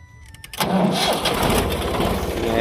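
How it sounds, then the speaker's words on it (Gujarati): A tractor engine cranks and catches at about half a second, then runs steadily and loudly close by, with a rough, throbbing idle on a farm field. "ટ્રેક્ટર ચાલુ કરવું પડે એમ છે."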